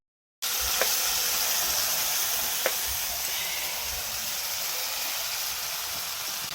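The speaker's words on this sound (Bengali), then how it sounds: "কড়াইয়ে পড়ে গেল মশলা" Spices hit hot oil in a small wok (kadai) and burst into a steady, close sizzling hiss that starts abruptly and holds evenly, with no talking.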